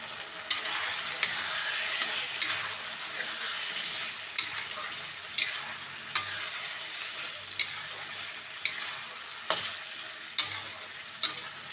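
Spice masala frying in oil in a pan, a continuous bright sizzle with regular spatula scrapes and taps against the pan, close and moderately loud.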